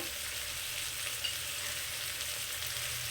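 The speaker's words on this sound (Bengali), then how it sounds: "সবজিগুলো সব ভালো ভাজা হয়ে গেছে" Vegetables and grated ginger fry in a pan for methi pulao, giving a steady, even hiss throughout with no pauses and no voices.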